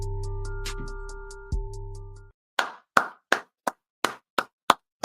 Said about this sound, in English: Let's clap it up, baby.